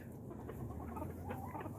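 Chickens cluck in a backyard coop that also holds ducks, soft and muffled against a steady low rumble of background noise.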